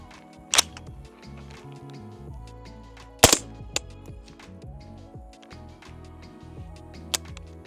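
Suppressed-sounding shots from a 300 Blackout rifle firing subsonic rounds at 10 yards: three sharp, distinct cracks spaced a few seconds apart, with clicks and handling noise over a steady tonal hum in between.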